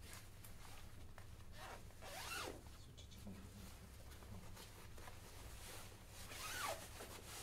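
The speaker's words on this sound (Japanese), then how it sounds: "フロント部分のジッパーを操作することで取り外しが可能です" The front zipper of a Mizusawa 2-in-1 down jacket, a short down outer over a mid-length shell coat, is worked by hand in a few quiet, rasping pulls amid soft fabric rustling.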